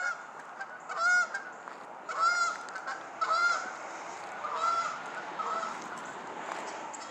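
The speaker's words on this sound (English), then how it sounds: "Hear the geese?" Several geese honk in short bursts, spaced a second or so apart, carrying over a steady outdoor background on a chilly spring day.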